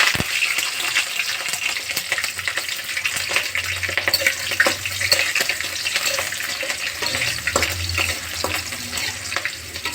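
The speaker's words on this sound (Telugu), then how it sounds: "ఇలా బాగా వేయించుకోవాలండి." A dried chilli, curry leaves and green chillies frying in oil: a loud, dense, continuous sizzle with occasional clinks and scrapes of stirring up close, no speech.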